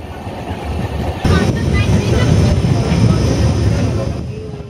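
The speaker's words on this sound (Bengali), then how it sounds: "সরো পার করলো ধৌলি এক্সপ্রেস" Dhauli Express 12821 passing Soro station, a loud broadband rumble of rolling train wheels and carriages that surges suddenly and holds steady for several seconds, with a faint tonal whine near the end.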